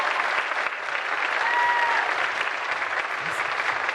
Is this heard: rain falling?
no